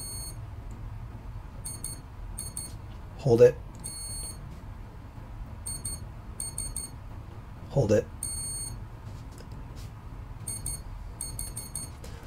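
Short, high programming beeps from a brushless ESC being set to 75% drag brake sound in quick repeating groups, with someone speaking briefly twice between them.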